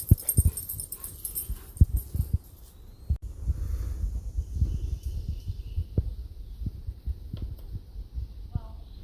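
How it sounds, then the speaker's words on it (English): A dog off leash nearby on a trail, heard as short panting, snuffling and whimpering sounds scattered through the stretch, fairly close, over outdoor background noise, with a few faint voices in the distance. "then there's this asshole dog over here off leash"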